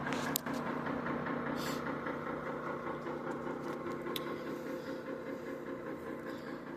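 A steady, low electrical hum with a mechanical drone runs throughout from a microwave oven heating water nearby, with a few faint clicks.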